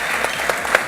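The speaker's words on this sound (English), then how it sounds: "Please give a fantastic round of applause." Audience applause at an awards-style business evening, a steady wash of clapping from a large crowd, moderately loud and continuous for just under a second with a few sharper individual claps standing out.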